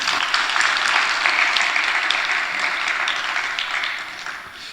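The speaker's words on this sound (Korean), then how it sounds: "박수 한번 쳐줘." A church congregation applauding the Gabriel choir, sustained dense clapping that fills the room at an even level before tapering slightly at the end.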